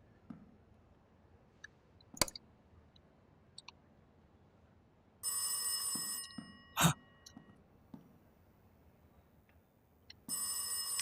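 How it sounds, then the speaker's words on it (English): Telephone ringing inside the horror game Rise of Insanity, sounding as a bright electronic trill in two bursts separated by a few seconds, with scattered clicks and thumps in a quiet room and no talking. "It's ringing. Oh, it's the room with the phone in it."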